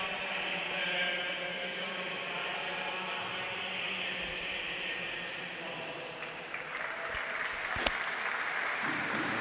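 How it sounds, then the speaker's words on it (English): Crowd applause at a Thailand vs Singapore gold medal ice hockey game in the U20 Asia and Oceania Championship, a steady distant clapping wash filling the arena throughout. "Nice round of applause for all the officials and people who helped make this possible"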